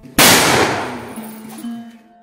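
A homemade monkey gun, built to scare crop-raiding monkeys from farm fields, fires a single loud, close bang that decays over a couple of seconds, leaving a faint ringing tone.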